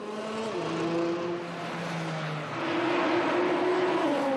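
A Porsche Carrera drives on a racetrack during a track weekend, its engine droning loudly and steadily up close, rising and dipping in pitch as the car accelerates and shifts.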